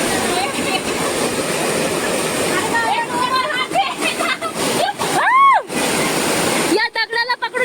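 A monsoon waterfall at Tapalwadi near Neral, running with low flow, gives a steady broadband rush of water under people talking and calling nearby.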